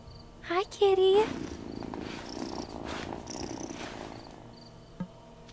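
Cat purring in the video game Wylde Flowers, a steady close rumbling purr running throughout, with a brief chirpy game sound near the start and a small click near the end.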